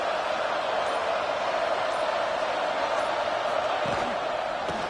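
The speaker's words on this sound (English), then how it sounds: "this crowd is fired up. Listen to this noise here." A fired-up stadium crowd at a football game roars in a steady, dense wash of noise that holds loud and unbroken throughout.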